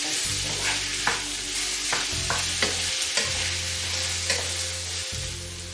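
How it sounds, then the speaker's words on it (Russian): Onion fries in a pan with a steady sizzle, broken by several distinct scraping stirs and light clicks of a utensil against the pan, close and clear with no talking. "Лук обжариваю до мягкости и золотистости."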